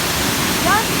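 A waterfall pours in a constant loud broadband rush beside a hiking trail in Pennsylvania, with a brief high bird-like chirp rising over the steady roar.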